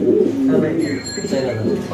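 Low cooing of a white Mundian pigeon, soft and continuous, close by, with faint murmuring voices and background noise mixed in.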